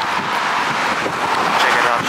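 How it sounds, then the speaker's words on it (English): Strong wind on a Hawaii beach buffets the microphone in a loud, continuous roar, with rough gusts and a faint wash of surf beneath. "It's so windy, you could see the fucking waters come up."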